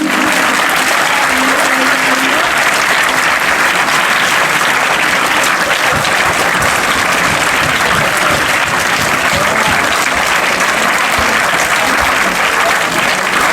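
Children at a Children's Day school event clap in sustained, loud applause that fills the whole stretch, with a faint crowd murmur beneath the steady clapping.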